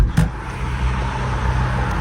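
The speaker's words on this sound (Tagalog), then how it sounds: "ang ingay naman ng mga sasakyan na ito" Steady roadway traffic noise, cars rushing past close by with a continuous broad rumble and hiss, one brief louder swell near the start, no voices.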